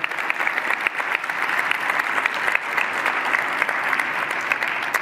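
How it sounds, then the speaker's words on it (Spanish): Steady, dense applause from a conference audience fills the whole stretch as a continuous wash of many hands clapping at once, with no letup. "me encanta que los aplaudan"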